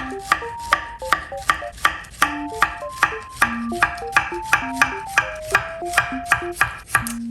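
A knife chops zucchini into slices about a centimetre thick on a cutting board, each cut giving a crisp, sharp tap in a quick, steady rhythm that repeats about twenty times, close and clear.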